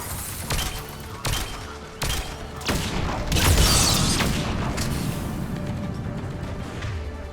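The Scorpion gun in the game Mass Effect 3 fires sharp, separated shots about every second, each followed by a booming burst and crashing echo that builds into a louder rolling blast midway and then lingers.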